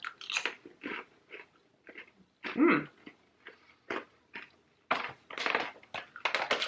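Someone munches caramel popcorn up close, with crunchy bites and sticky chewing coming in short irregular bursts separated by quiet gaps.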